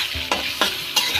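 Spices with turmeric, salt and ground ginger stirred in a hot pan for a Bengali fish curry, a steady sizzle broken by three scraping strokes of the spoon, close and without talk.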